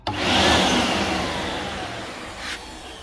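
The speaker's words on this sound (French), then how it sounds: "Aspirateur." A vacuum cleaner switches on abruptly with a loud, airy whine and roar during car coolant leak repair work, then settles into a steady, slightly fading hum, with a brief surge near the end.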